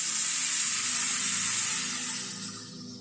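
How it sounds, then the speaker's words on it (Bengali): Hot water splashes into a pan of frying mourala fish, bursting into a loud, close hiss of sizzling steam that gradually dies down over a few seconds. "সামান্য একটু জল অ্যাড করে দিচ্ছি"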